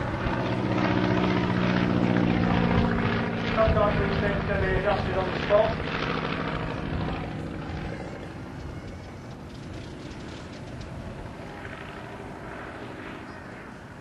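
A vintage Avro 504 biplane's propeller engine drones loudly with a steady tonal hum as it comes in to land at Old Warden, then fades and thins out as it recedes, with someone talking over it.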